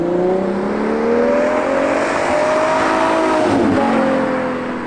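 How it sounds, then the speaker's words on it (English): A Ferrari 812 GTS V12 drives by with a loud, high-pitched whine that rises steadily as it accelerates, heard clearly with no talking over it. "what do I like about the 812 GTS? Well, obviously, the noise"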